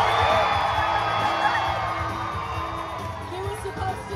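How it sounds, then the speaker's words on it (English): Audience cheering and whooping at a live animal actors stage show at a theme park, a loud, dense crowd roar with children's shouts that stays steady throughout and slowly eases a little. "The louder you cheer, the higher he goes."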